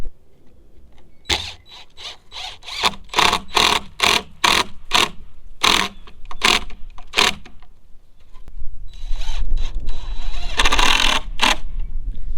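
A power drill drives small screws into wooden pallet boards for a goat hay feeder, giving a run of short, loud, evenly spaced whirring bursts followed by a longer, rougher stretch of motor noise.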